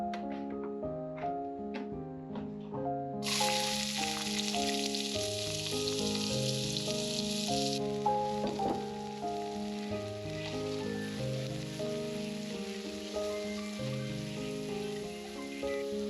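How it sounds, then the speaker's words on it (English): Steady crackling sizzle of onion frying in hot oil, with a bright hiss rising partway through over soft background music. "Added about 1 tablespoon of oil, just enough to fry the onion."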